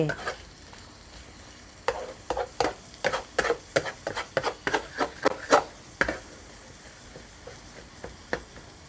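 Pork being stir-fried with egg in a pan, with a steady sizzle under a run of regular scraping strokes of a spatula against the pan, loud and close, then slowing near the end.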